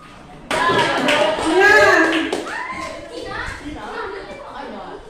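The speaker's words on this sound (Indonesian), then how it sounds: "tepuk tangan untuk perwakilan kedua" Applause in a classroom for a group representative, a burst of children's clapping mixed with loud, excited kids' voices that gradually settle into quieter chatter.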